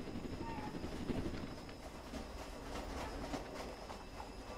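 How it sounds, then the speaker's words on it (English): A passenger train in the video game Jailbreak rumbles steadily with a faint rhythmic clatter of wheels, a continuous low mechanical roar with no voices. "That's a passenger train."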